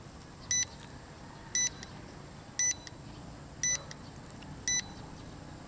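A drone's handheld controller beeps to signal return-to-home flight, sounding five short, evenly spaced electronic beeps about once per second over a faint steady background hiss.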